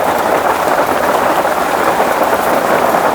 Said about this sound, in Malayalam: മഴയും